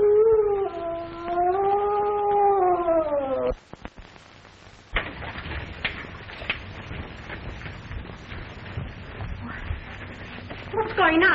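A police dog howls long and wavering in a 1936 mystery film scene, loud and close for several seconds, then breaks off into a busier stretch of voices and commotion.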